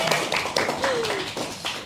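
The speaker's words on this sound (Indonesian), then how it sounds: "Tepuk tangan dong." Scattered hand claps from a small group, a few distinct claps spread over a couple of seconds with no talking over them.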